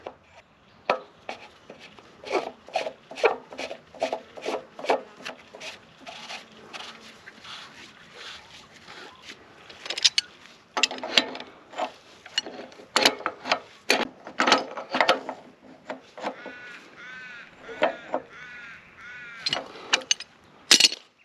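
A plastic fitting is screwed by hand onto an Aussie Pumps FireChief firefighting pump, giving a close series of sharp, rhythmic clicks and creaks that bunch into quicker bursts near the end, with no talking.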